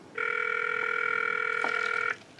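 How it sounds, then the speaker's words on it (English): A phone call rings out through a Lemfo LF07 Bluetooth smartwatch as a single steady electronic ringback tone lasting about two seconds, clear and close against a quiet background. "So this is the number that I dialed. And you can see that it's ringing."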